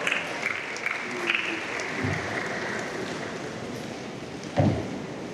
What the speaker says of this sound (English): Let's put our hands together for him as he comes up.